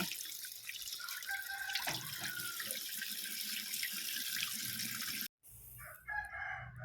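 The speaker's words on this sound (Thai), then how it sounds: "จะเอาเห็ดเฟืองมาล่างน้ำให้สะอาดก่อนนะจ้า ต้องล้างอีกรอบนะจ๊ะ" Straw mushrooms rinsed under a running tap, a steady hiss of flowing water that cuts out briefly near the end and then resumes, with a rooster crowing in the background and no speech.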